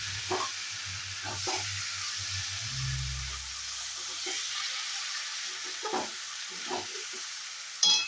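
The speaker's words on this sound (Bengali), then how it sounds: "একদম ভাজা ভাজা করে চলছে এখানে আমার সর্ষে দিয়ে তোমার চচ্চড়ি।" Mustard-seasoned winter vegetable chorchori frying in a pan, a steady soft sizzle throughout with occasional stirring scrapes and a low rumble near the start, close and moderately quiet with no talking.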